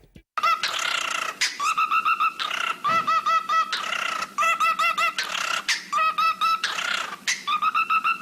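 A pet parrot gives a loud, busy run of squawks, whistles and electronic-sounding chirps in quick repeated bursts, close and continuous with no talk.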